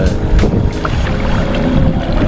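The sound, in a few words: fishing boat motor running on Lac Saint-Jean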